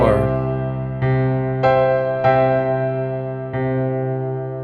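Piano chord fill with the left hand holding a low octave while the right hand strikes a repeated top note, five evenly spaced attacks ringing over sustained bass, played alone.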